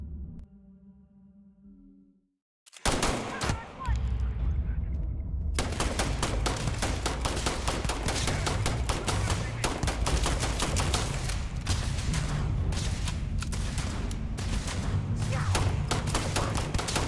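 Video game gunfire bursts in, a dense and continuous rapid rattle of shots, loud and sustained after a quieter opening of tonal game sounds.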